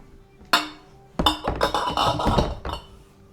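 Dishes and cutlery clink and clatter as a kitchen is packed down for bus living, with one sharp knock followed by a busy run of close clinks and thunks, heard without speech.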